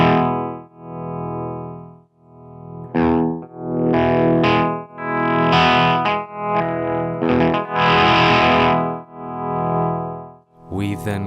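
Electric guitar runs through a Dark Waves tap tempo tremolo pedal with its multiplier at minimum, giving slow, deep volume pulses over sustained, slightly distorted chords.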